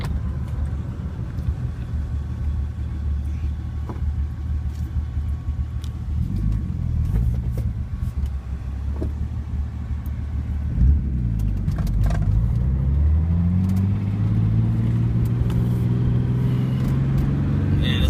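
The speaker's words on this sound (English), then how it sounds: "this car is just an absolute blast to drive" A Datsun 280Z with a stroker turbo engine drives along with a low, steady rumble, then revs climb in rising sweeps near the end, the engine heard close from inside the car.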